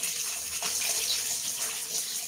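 Noisy running water, like a tap filling a basin during a laundry day in the Philippines, makes a steady hiss throughout without a break.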